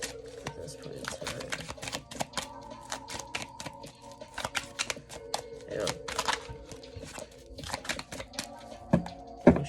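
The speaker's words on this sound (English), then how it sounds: "Let me shuffle again because that was taking too long" Tarot cards shuffled by hand during a reading, a quiet run of quick papery taps and riffles, close by, with brief pauses and soft louder bursts near the end.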